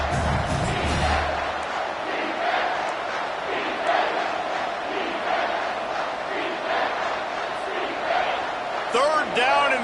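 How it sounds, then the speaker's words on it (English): A stadium crowd at a college football game roars and yells continuously, a dense loud wall of cheering voices with surging swells, and a commentator talks over the noise. "These fans are going absolutely nuts"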